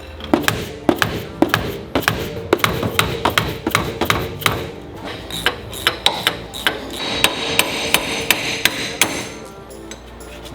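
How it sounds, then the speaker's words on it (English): Sharp metallic hammer blows drive a wheel stud out of the hub of an abandoned Mitsubishi Lancer Evo 8, struck repeatedly in quick irregular bursts, loud and close, with no talk. "Knock out this wheel stud."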